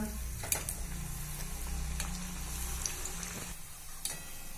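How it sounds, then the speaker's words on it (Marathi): Methi palak kofta sizzle softly in hot oil, a faint, steady crackle of frying punctuated by small ticks and clinks from the pan. "याच पद्धतीने सगळे कोफते आपल्याला तळून घ्यायचे आहेत"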